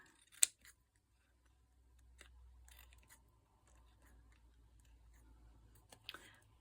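Scissors trimming a tiny floral dangle embellishment for a handmade craft: a sharp snip near the start, then quiet low hum, and a couple of faint clipping clicks near the end.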